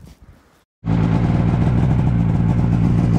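A snowmobile engine that has sat outdoors for about a week starts after a brief quiet gap, then runs loud and steady close by as it warms up.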